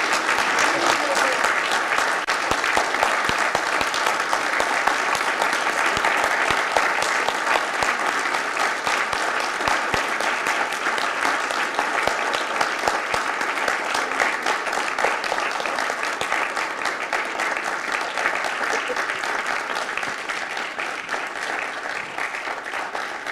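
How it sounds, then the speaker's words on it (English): Large audience at a university building dedication ceremony claps steadily and loudly in sustained, dense applause for the whole stretch, easing slightly near the end. "giving them a big Karachi round of applause"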